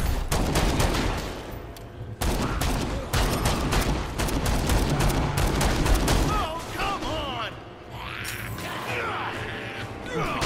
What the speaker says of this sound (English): That's a revolver.